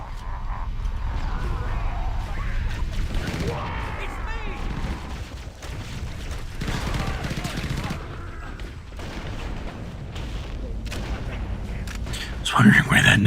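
Rocket launcher blasts and explosions in the Halo game Combat Disheveled, rumbling booms and bursts of gunfire running throughout, with a sharper loud crack near the end and game voices mixed in.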